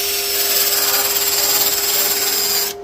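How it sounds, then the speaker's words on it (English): An angle grinder runs steadily at full speed with a high tonal whine, scouring metal clean ahead of welding on van cab sides and doors, then cuts off abruptly near the end. "We're going to take our grinder."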